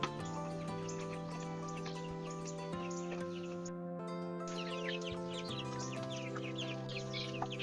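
White leghorn chickens cluck in a backyard, with repeated short clucks scattered over a steady droning hum. No one speaks.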